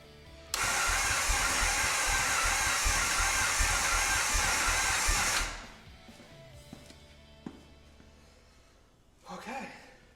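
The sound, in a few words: vintage Indian Chief motorcycle engine starting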